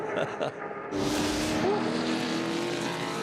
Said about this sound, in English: They're on the rev limiter at the end of Conrod Straight.